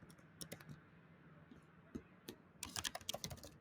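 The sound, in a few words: typing on a computer keyboard in VS Code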